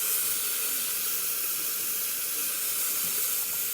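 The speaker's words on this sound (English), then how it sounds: "Let's check the steam." The steam wand of a Zacconi espresso machine, freshly serviced after a full tune-up, lets out a loud, steady hiss of steam that runs unbroken and close-up, with no voices.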